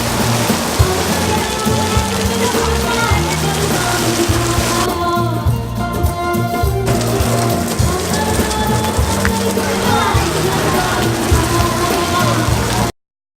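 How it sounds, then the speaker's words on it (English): Heavy monsoon rain pours down steadily during a festival in Delhi, India, a dense continuous hiss of drops hitting surfaces with no pauses, loud and close throughout, with low rumbling underneath and no speech. "So I just focused 15 seconds of just heavy rains during the festival."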